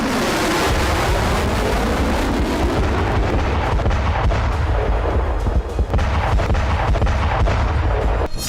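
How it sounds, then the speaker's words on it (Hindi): Cluster bomb explosions in the Russia–Ukraine war: a dense, continuous roar of rapid overlapping blasts and crackling detonations, loud and sustained with flickering bursts and no voices. "एक बम से एक साथ बड़ी संख्या में विस्फोट हुए हैं"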